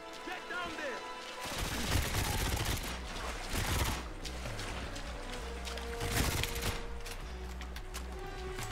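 Gunfire in a video game on a live stream, heard as several loud bursts of rapid shots spread across the clip over a constant rumbling game soundtrack.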